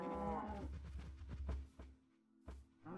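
Minecraft cows moo in the video game, a close, clear low call followed by shorter game sounds and a brief second moo-like burst, with no talk.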